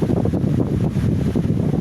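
Electric fan running at high speed, a loud steady whooshing rush of air with a low rumbling hum, close to the microphone.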